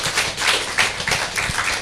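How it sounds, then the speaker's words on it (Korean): A church congregation claps together during a worship service, the rhythm uneven and moderately loud, with no one speaking over it. "이런 놀라운 사랑을 주님 앞에 영광 돌리며 박수를 올려드리겠습니다"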